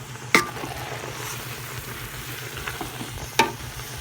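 A pot of bamboo shoots with pork bubbles and sizzles steadily while it is stirred, with two sharp clacks of a utensil against the pot.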